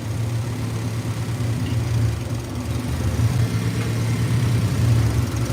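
A car engine idles steadily after its idle screw is turned down slightly, a continuous low rumble that stays close and fairly loud throughout, with no voices.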